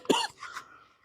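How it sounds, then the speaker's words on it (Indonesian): A single sharp cough from an Islamic lecturer addressing a school audience, loud and close, followed by a brief throat-clearing rasp that fades within about a second. "Mohon maaf, saya batuk."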